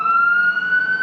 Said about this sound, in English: as this ambulance rolls by